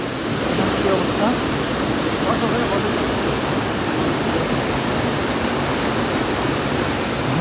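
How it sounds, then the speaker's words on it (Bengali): The Dim Pathor waterfall in the Thanchi hills of Bandarban rushes with a loud, continuous, close roar of falling water that stays even throughout. "দেখেন ঝর্ণার শব্দ কত স্পিড, কত জোরে ঝর্ণা বইছে।"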